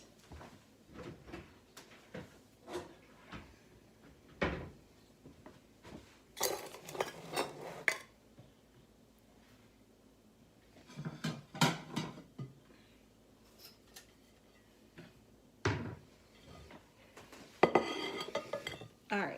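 Someone rummages through kitchen utensils for a flour sifter, making bursts of clattering metal, clinking cutlery and knocking pots and drawers, separated by quiet pauses and talk.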